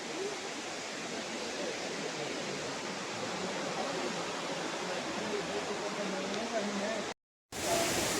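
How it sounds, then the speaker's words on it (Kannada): Elephant Falls in Shillong, Meghalaya, a three-tiered waterfall, roars as a steady broadband rush of falling water throughout, heard close and continuous with a brief cutout near the end. "ನೀರು ಬೀಳೋದು ಅಷ್ಟೇ ಎಷ್ಟು ಚೆನ್ನಾಗಿ ಕೇಳಿಸ್ತಾ ಇದೆ."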